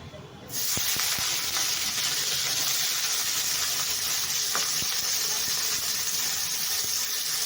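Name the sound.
potatoes and onions frying in a pan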